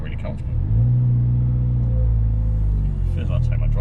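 A Honda Civic Type R FK8 with a manual gearbox drives along, its engine a steady, loud low rumble that swells slightly as it pulls, heard from inside the cabin.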